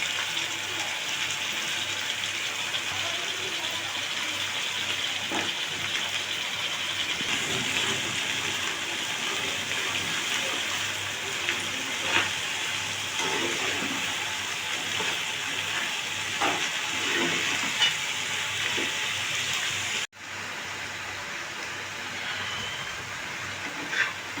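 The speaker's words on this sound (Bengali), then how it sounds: "বিনস আর গাজরটা ভেজে নিচ্ছি বিনস গাজর মটরশুঁটি মেরে নিচ্ছি" Beans, carrots and peas fry in a pan with a steady, dense sizzle and hiss that holds at an even level, broken by one brief dip near the end, with faint stirring clicks scattered throughout.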